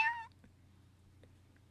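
A domestic cat gives a single short, close meow right at the start, followed by near silence with a low steady hum.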